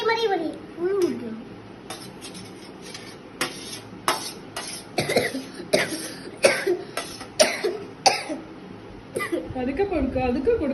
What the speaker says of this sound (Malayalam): അച്ഛച്ച ചുമക്കുന്നു